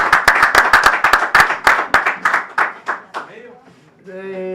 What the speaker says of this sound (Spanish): le damos ¿Estamos vivos? un fuerte aplauso a Máximo de la Champions.